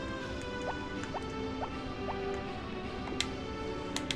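Water pours or fills into a container indoors, a run of small gurgling drips with rising pitch repeating every half second or so over a steady background hum, with a brighter splash near the end.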